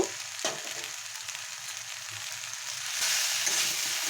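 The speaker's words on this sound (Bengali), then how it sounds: "এবারে আমি এর মধ্যে আদা আর কাঁচা লঙ্কা বাটা দিয়ে দেব" Ginger and green chili paste frying in a pan of spinach for palong shak ghonto, a soft steady sizzle with faint stirring scrapes, close but fairly quiet, growing slightly louder near the end.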